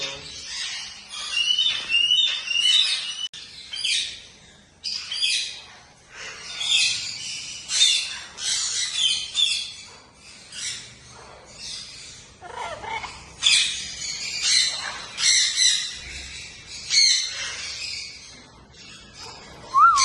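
Cuban Amazon, or rose-fronted Amazon, parrots squawking repeatedly, shrill harsh calls coming in close, overlapping bursts throughout amid a bird house setting.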